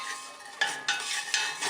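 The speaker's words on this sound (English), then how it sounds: "So I drop my onions in my pan and begin to stir." Onions dropped into a hot pan and stirred, a soft sizzle with a few scraping strokes of the stirring utensil, close and fairly quiet, no talking.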